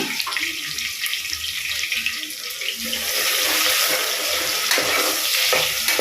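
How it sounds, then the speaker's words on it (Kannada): Onions and long-cut green chillies fry in a pan with a steady hiss and crackle, a broadband sizzle that grows a little louder partway through and carries on without pause. "ಆನಿಯನ್ ಸ್ವಲ್ಪ ಗೋಲ್ಡನ್ ಬ್ರೌನ್ ಕಲರ್ಗೆ ಟರ್ನ್ ಆಗಬೇಕು ಅಲ್ಲಿವರೆಗೂ ಇದನ್ನು ಫ್ರೈ ಮಾಡ್ಕೊಳ್ಳೋಣ"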